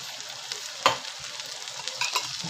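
Chopped onion sizzles steadily in hot oil after browning, with curry leaves and chilies stirred in, giving a soft continuous frying hiss broken by a few spatula scrapes and crackles.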